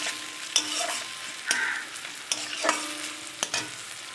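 Ginger-garlic paste and turmeric sizzle in hot oil for a Bengali sardine curry, with a low steady fry under repeated sharp scrapes and taps of a spoon stirring the pan, close and moderately loud, no voices.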